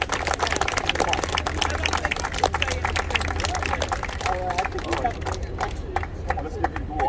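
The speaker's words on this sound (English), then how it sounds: "Let's give one round of applause, a big one, for Captain Zita Merchant" Audience applause at a Women's Veterans Day tribute ceremony honouring Captain Zita Merchant: dense, steady clapping from a crowd throughout, with a low hum and some murmured voices underneath.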